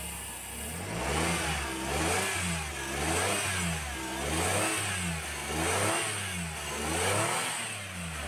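A warm Suzuki DA17 engine, being checked for an overheating problem, runs steadily close by with a regular rise-and-fall revving rhythm about once a second, loud and continuous throughout.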